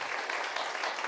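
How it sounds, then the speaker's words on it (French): Applause from an audience at a French job-fair conference on careers in autonomy and elder care, a brief steady patter of clapping at moderate distance with no speech over it. "vous pouvez les applaudir absolument"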